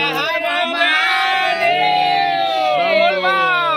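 A large devotional crowd at a Shiv Mahapuran katha in Bhilai, Chhattisgarh chants and shouts together in loud, sustained, tonal voices that swell continuously and nearby.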